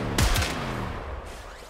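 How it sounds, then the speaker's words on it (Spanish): Gunfire in the video game Warframe: a sharp burst of two quick booming shots at the start, then a long ringing tail that fades out over the rest of the moment. "Disparando tranquilo en este momento."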